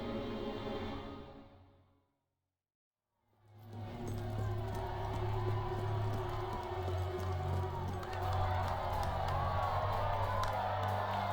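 A large crowd in the video game Fable III roars and cheers continuously after a brief silence, loud and sustained with scattered whoops rising above the din.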